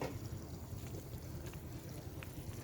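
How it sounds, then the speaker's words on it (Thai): Water flowing strongly nearby as a low, continuous rushing rumble, faint and steady throughout with no voices. "เสียงน้ำอยู่ตรงนี้"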